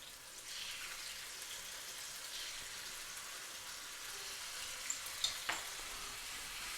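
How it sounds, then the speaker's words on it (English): Fresh garlic sautéing in extra virgin olive oil in a preheated pan gives a steady, close sizzle throughout, with a few sharp pops and spatters near the end. "we're going to saute some of that fresh garlic"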